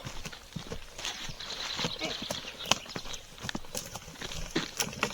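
Horse hooves clip-clop on an outdoor trail during a ride, irregular thuds and knocks at a walking pace, close by over a faint breezy background.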